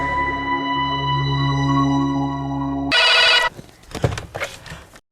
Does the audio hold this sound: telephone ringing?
yes